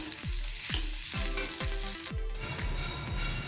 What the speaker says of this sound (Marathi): सर्व बटाटे घातलेले आहेत चांगलं मिक्स करून घेऊया